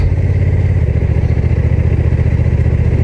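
Close and loud, a Honda NT1100 DCT motorcycle engine chugs in a steady low pulse, its beat shifting slightly after the first second as the throttle changes, with no voices.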